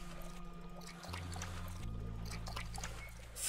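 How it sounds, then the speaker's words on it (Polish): A character urinates in the video game Bulb Boy, a steady close trickling pour running continuously over a low droning game soundscape, with no talking. "Może im więcej sikam, tym więcej brukwi wyhoduje."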